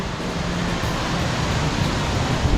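An indoor waterfall at the ICONSIAM mall in Bangkok gives a dense, steady rushing roar, loud and unbroken, with no talk.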